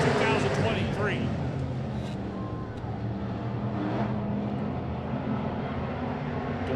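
A field of race cars roars away at the green flag of a 2023 race, a dense, continuous engine din with an announcer talking over it throughout.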